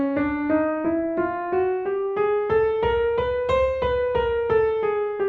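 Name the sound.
piano playing the chromatic scale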